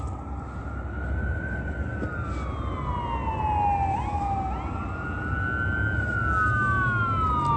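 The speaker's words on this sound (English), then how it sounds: "Sirens sound like they're right here at the intersection." Emergency sirens wail at a city intersection at night, with several rising and falling tones overlapping against a constant traffic rumble. They sound fairly close.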